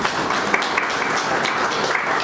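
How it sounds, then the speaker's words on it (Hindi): Audience applause at a Hindi cultural programme, a steady sustained wash of clapping from a crowd, moderately loud and continuous with no talk over it. "एक बार अपने लिए बहुत जोरदार तालियां बजा दीजिए।"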